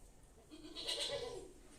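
A voice imitates a goat bleating during a told story, a short wavering bleat, fairly quiet and close, with no other sound around it.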